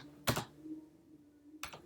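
Two short bursts of clicking keystrokes come from a computer keyboard, nearby and fairly quiet, with a pause of about a second between them.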